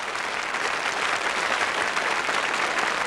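Audience applause for two singers at a televised Swiss concert event, a dense, steady wash of clapping that holds loud from start to finish without any voices.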